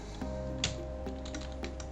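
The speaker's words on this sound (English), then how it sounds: "So now I will type in cp" Keys clacking on a computer keyboard as a command is entered on a Raspberry Pi, a short run of separate close taps over a low steady hum.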